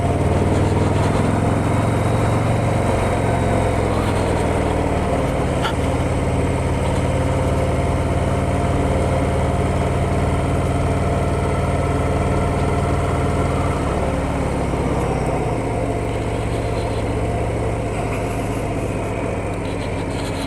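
A 2025 Harley-Davidson Fat Boy motorcycle engine running in low gear on a test ride, a loud, steady deep rumble that holds throughout with slight shifts in pitch.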